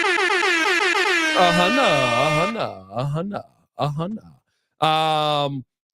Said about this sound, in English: I can't find my air horn